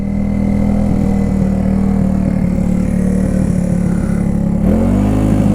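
A barn-find Honda CB125S motorcycle's engine holds a steady high rev from a sticking throttle, droning loud and close throughout, then the pitch drops near the end as the idle starts coming back down.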